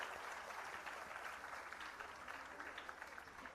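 Faint, distant audience applause at a Bharatanatyam dance arangetram, a steady continuous wash of clapping held across several seconds.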